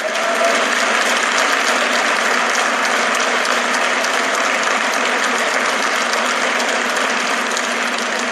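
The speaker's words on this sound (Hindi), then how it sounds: "पर इतनी ताली नहीं, जोर से" Audience at a ceremony applauding loudly and without a break, a dense continuous wash of clapping with little talk.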